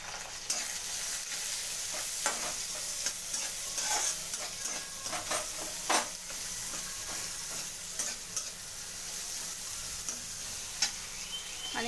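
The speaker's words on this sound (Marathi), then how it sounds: "लगेच त्यात कांदा टाकूयात." Chopped onion with ginger frying for Hakka noodles, a steady sizzle in a pan broken by repeated scraping stirs and clicks of a spatula, close and continuous.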